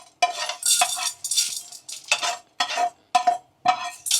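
Dry-roasted Maggi noodles are scraped and tipped from a pan into a bowl with a spatula, giving a series of about eight crisp, rustling scrapes and clinks in an irregular rhythm, close and clear with no talking.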